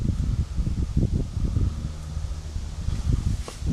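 Gusty wind buffets the microphone outdoors beside a small firebox burning hardwood pellets, with low rumbling bursts rising and falling throughout and no voices.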